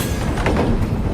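A train runs on rails in a short, continuous rumbling burst with faint rhythmic clatter, heard from inside a camper van carried aboard the train.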